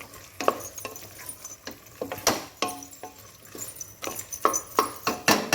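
Chili powder being stirred into hot oil in a pan, a series of short scraping strokes in an irregular rhythm with a light sizzle underneath, close and moderately loud with no talking.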